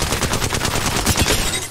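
Rapid automatic gunfire in the Apex Legends video game, a dense, loud burst of shots with strong low thumps, continuous for under two seconds with no talking.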